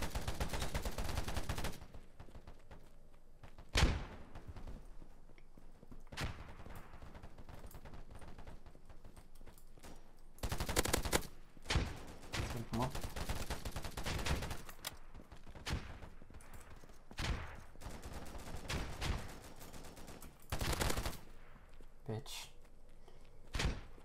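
Gunfire in the online shooter Polygon, a series of sharp, loud gunshot bursts and volleys separated by quieter gaps, repeating across the stretch with some thuds in between.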